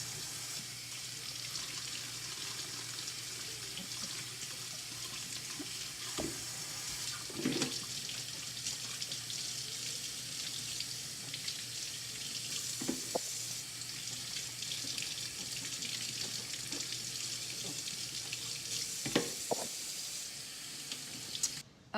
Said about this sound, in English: The next thing you're gonna do is wash all of your vegetables. Wash them really good.